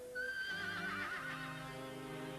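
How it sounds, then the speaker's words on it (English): A horse neighs loudly and close, a long shrill whinny that wavers and slowly falls in pitch, heard on its own over quiet background in a period household setting. "That horse. It's still on the landing."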